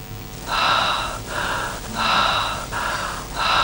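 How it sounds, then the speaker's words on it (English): Breathing loop from an interactive digital artwork, slow rhythmic inhale and exhale breaths repeating about every 1.5 seconds, close and airy, with no talking. "The breathing is a somewhat tongue-in-cheek device to make it seem more alive, more organic."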